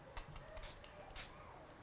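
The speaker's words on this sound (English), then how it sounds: "now with my spray bottle spray" Quiet, short bursts of a spray bottle misting water onto a watercolour stamp, several soft hissing puffs spaced irregularly over a faint room background.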